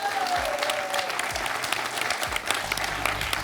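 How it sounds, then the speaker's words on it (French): Studio audience applause on a French television quiz show, a brief burst of steady crowd clapping with faint background sounds and no speech. "On peut applaudir l'esprit sportif de Lilian"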